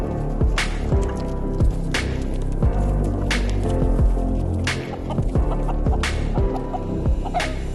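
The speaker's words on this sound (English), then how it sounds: "these are our young commercial brown hens" Young commercial brown laying hens in a coop give repeated clucks and short calls with intermittent sharp squawks, set over a steady low hum, close and fairly busy throughout.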